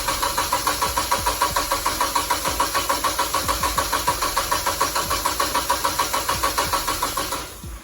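A worn starter cranks a Nissan 240sx engine that refuses to fire, a steady rapid chug of even whirring pulses lasting several seconds before it cuts off, loud and close with no talking.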